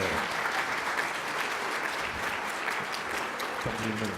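Audience at a cannabis regulators' Q&A panel in Portland applauds steadily, a dense, even wash of clapping that holds at the same level throughout.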